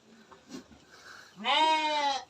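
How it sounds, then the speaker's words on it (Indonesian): After a few faint rustles, a goat lets out a single clear, wavering bleat close by. "Iki lagi wedhus."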